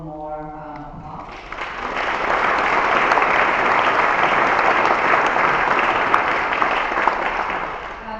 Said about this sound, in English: Please give them one more applause.